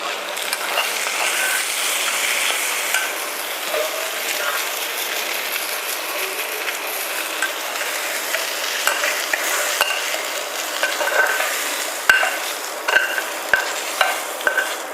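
Ingredients for palapala payasam sizzle and get stirred in a pan, a steady close frying hiss with scraping spatula strokes that turn into sharper, rhythmic clacks near the end.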